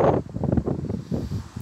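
Strong storm gusts of up to 100 km/h buffet a phone microphone on a balcony, a loud, rough, low rumbling roar that surges and dips in irregular pulses.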